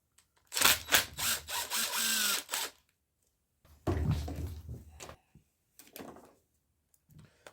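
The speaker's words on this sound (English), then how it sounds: "let's pull these screws out" A small power screwdriver backs screws out of an RC car's front differential, with several short motor whirring bursts separated by pauses and faint handling clicks.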